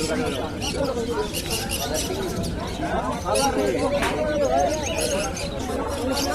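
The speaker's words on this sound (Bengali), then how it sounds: "এবার আমরা এসেছি কবুতর হাটে এবার আপনাদেরকে কিছু কবুতর দেখাবো" Pigeons at a busy outdoor pigeon market coo and flutter amid a dense, steady bed of crowd chatter and murmuring voices, with the birds close and continuous throughout.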